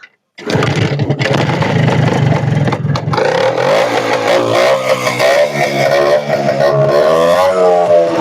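A Minsk 125cc motorcycle engine sputters to life after a brief silence, then idles roughly and is revved repeatedly, rising and falling in pitch, loud and close with a clattery two-stroke tone, alone without talk.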